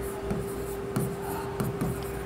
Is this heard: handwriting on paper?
yes